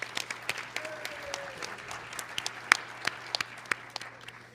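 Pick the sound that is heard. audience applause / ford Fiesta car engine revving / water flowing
audience applause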